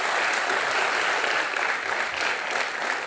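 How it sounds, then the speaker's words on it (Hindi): A studio audience on a Hindi television talk show claps loudly and continuously, a thick, even wash of applause from start to finish. "जितनी ज्यादा जोर से हम ताली मार सकें उतना काम है"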